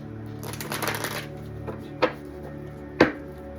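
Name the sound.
shuffling tarot cards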